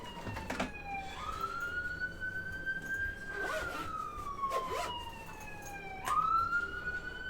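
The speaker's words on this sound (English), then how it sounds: "We are back to the sounds of sirens." An emergency vehicle siren wails outside, a faint, distant rising and falling tone that sweeps up, holds and dips over several seconds, heard from indoors with light background noise.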